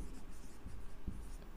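Pen or marker writes out a math equation while working a quadratic equation problem, making faint, soft scratching strokes with a few small taps, heard close and alone.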